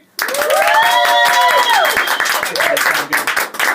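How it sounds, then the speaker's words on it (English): A live studio audience at a radio station event claps together on cue, a dense burst of applause with some cheering voices and a whoop rising over it, close and loud before it thins out near the end. "On three, let's hear some clapping."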